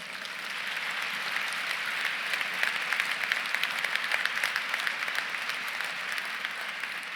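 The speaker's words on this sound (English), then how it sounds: "Let's give them one more round of applause." A full room at an awards breakfast honoring women in transportation breaks into sustained applause, a dense, even roar of many hands clapping that holds steady for several seconds with no voices on top.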